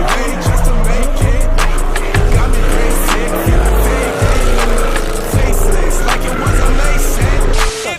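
A motorcycle does rolling burnouts, its engine revving hard and steadily while the rear tyre squeals continuously and loudly, with the pitch pulsing in repeated surges close by.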